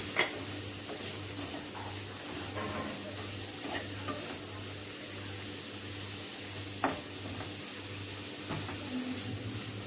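Maggi noodles with vegetables and a pinch of salt get stirred in a pan, giving a steady sizzle with scattered scraping clicks from a spoon and a low constant hum underneath.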